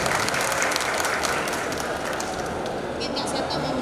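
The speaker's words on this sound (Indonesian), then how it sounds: "tepuk tangan buat Forum Anak Surabaya, tepuk tangan buat Surabaya yang ada" An audience at a talk show on child online protection in Surabaya breaks into dense, loud applause that stays steady across the few seconds, with a hint of voices mixed in.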